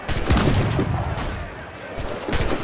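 A gunshot in Assassin's Creed IV: Black Flag, heard as a cluster of sharp bangs with rumbling decay, then a few more cracks near the end, partly under a speaking voice.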